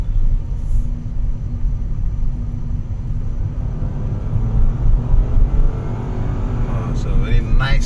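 A Nissan Almera's 1.0-litre three-cylinder turbo engine hums steadily from inside the cabin, a low, even drone with road rumble, continuous and moderately loud throughout, with a voice talking over it.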